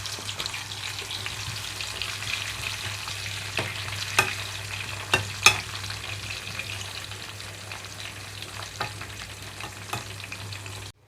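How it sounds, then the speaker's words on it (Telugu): Bitter gourd pieces fry in hot oil with a steady sizzle, punctuated by a few sharp stirring clicks and scrapes from a utensil, close and alone without any voices. "ఇలాగే మిగిలిన కాకరకాయ ముక్కలన్నీ కూడా వేయించేసుకుంటున్నాను."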